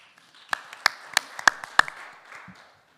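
Sparse hand claps from a small audience at an academic forum on local autonomy, about half a dozen sharp, distinct claps over a faint background, rising briefly and then fading out.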